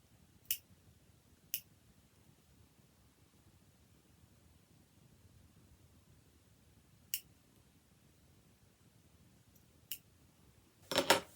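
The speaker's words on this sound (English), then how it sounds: "Now I do use these duckbill scissors because I find them really sharp and very accurate" Sharp duckbill scissors clip into the fabric corners of a wrap skirt: a handful of faint, isolated snips spaced seconds apart in a quiet room, ending with a brief cluster of cutting and rustle.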